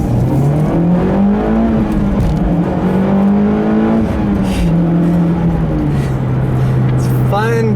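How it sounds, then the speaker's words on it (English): A 2013 Mitsubishi Lancer Evolution X GSR with turbos accelerating hard, engine note climbing through the revs in a loud, close rising drone, dipping briefly at a gear change and settling into a steady pull near the end. "I'll leave you with one last little acceleration here"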